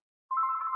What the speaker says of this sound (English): Oh, we got a phone call here.